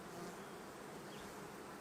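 Honey bees buzz at an opened hive in a dense, continuous hum, a close, steady swarm drone filling the whole moment with no talk.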